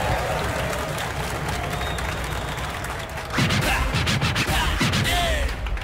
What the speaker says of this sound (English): And the crowd goes insane.